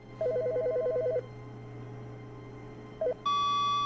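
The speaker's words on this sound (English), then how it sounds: "Is that a phone call?" A telephone rings in The Stanley Parable game: a warbling electronic trill for about a second, a short second burst a few seconds later, then a steady beep tone.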